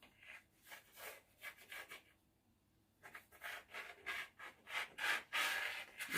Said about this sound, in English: Now let's get a knife or something to trim these off.